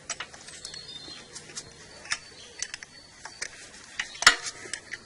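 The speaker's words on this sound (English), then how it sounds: "Got the plug in there, and I'm just tightening the last bit off." Spark plug being tightened by hand on a Suzuki SV 1000 motorcycle with a misfire, faint sparse metallic clicks and ticks of the tool with one sharper clink near the end, no talking.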